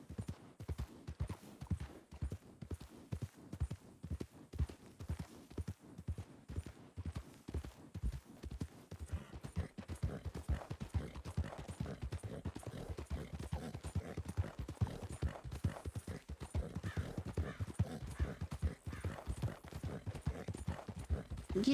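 Steady, rhythmic horse hooves clip-clopping while riding in a video game at a campsite, continuous throughout and growing denser and louder in the second half, with no talking.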